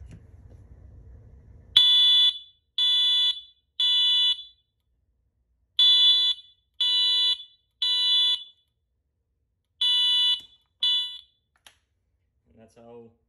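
A Wheelock MT-24MCW fire alarm sounds its code 3 tone: loud, piercing beeps in groups of three separated by short pauses, preceded by a brief low hum and ending in quiet.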